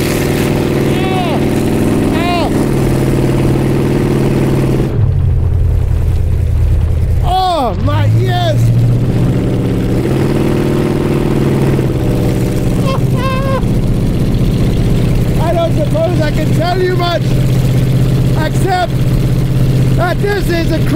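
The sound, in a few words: hot rod V8 engine exhaust rumbling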